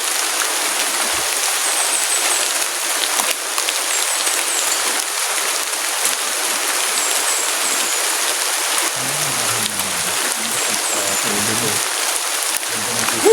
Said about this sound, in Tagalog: Parang lumakas ng ulan bro.